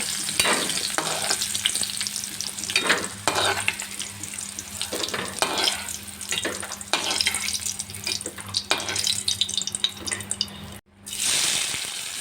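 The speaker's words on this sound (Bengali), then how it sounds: "প্রথমেই আলুগুলিকে লালচে করে ভেজে নিচ্ছি" Potatoes deep-frying in a generous amount of soybean oil give a steady, loud sizzle with repeated stirring scrapes. A short drop to near silence comes near the end.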